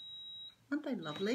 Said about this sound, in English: There goes my tumble dryer.